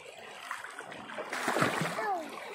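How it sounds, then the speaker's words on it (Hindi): Splashing in shallow water at Borail Eco Park near Silchar, a mix of irregular splatters that swell in the second half, with voices and excited chatter over the top. "देखिए फ्रेंड्स हम लोग पानी में कितना मज़ा कर रहे हैं"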